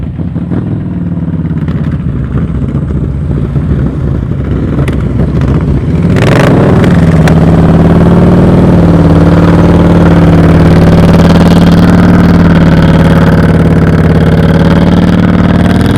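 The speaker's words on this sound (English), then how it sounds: "That's why I love a motorcycle that's loud like that. I can hear his throttle constant the whole time." A loud motorcycle engine holds a steady throttle during slow-speed riding practice, running continuously up close, with a brief sharper rev partway through before settling into a constant drone.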